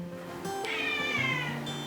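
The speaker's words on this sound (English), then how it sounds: "a 10-month-old stray cat called Mo" A 10-month-old stray cat at an animal shelter meows loudly and close, one long drawn-out rising-and-falling cry with a tonal whine and no talking over it.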